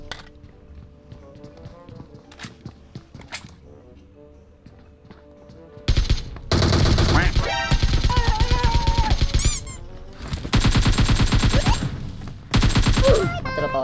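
Video game gunfire with rapid automatic bursts erupting loudly after a quieter stretch, then repeated sustained volleys from close range, with a player's voice talking over the shooting.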